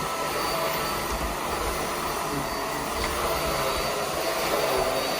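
A 2023 Vax Airmax Stretch vacuum cleaner runs continuously at close range, a steady loud whooshing motor drone with faint rumbling underneath and no speech.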